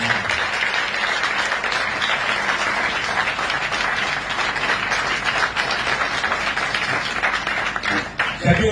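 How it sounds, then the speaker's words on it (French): Dense, continuous audience applause fills the hall, loud and sustained with many overlapping claps, acclaiming workers at a public gathering, with faint voices mixed in and a brief dip near the end. "Je souhaite qu'on acclame la France ouvrière et tous les autres"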